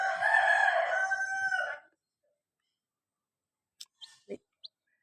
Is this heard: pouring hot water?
no